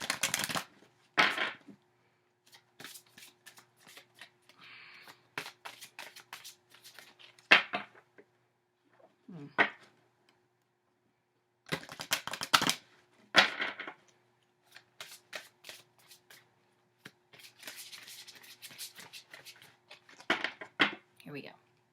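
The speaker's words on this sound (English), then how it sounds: "let me get the shuffling going" Bursts of rapid tarot card riffling and flicking, loud and close, come in several separate clusters with short pauses between them.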